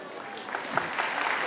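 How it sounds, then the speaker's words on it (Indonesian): Audience applause at a church service in Surabaya, a brief burst of steady, dense clapping with voices mixed in. "itu tepuk tangan"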